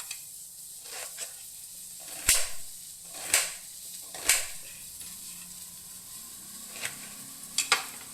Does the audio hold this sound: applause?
no